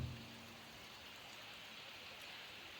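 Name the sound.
rain falling on a farm field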